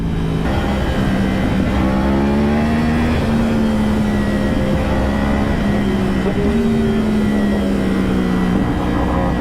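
A superbike engine revs loudly and close, holding a droning tone that rises and falls in pitch as it accelerates through gears, with no talk over it.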